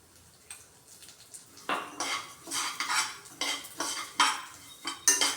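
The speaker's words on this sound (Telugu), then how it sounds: "ప్యాన్లో లైట్గా నెయ్యేసి సేమియా వేస్తున్నాను" Vermicelli roasting in ghee in a pan is stirred with a utensil, giving repeated scraping, clinking strokes against the metal pan in a steady rhythm, close and moderately loud, with no talking.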